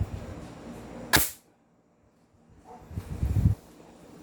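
An upgraded ZionArms M4 gas blowback airsoft rifle fires once through a chronograph, a single sharp crack followed by quiet, then some faint handling noise.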